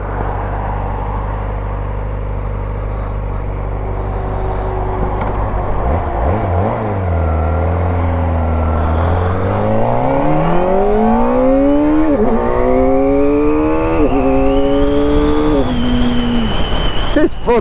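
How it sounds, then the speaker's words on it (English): A 16,000 RPM superbike engine revs while riding, its pitch dipping and then climbing steadily through several rising sweeps over loud, constant wind and road roar, heard close from the rider's position. "You just rev it then."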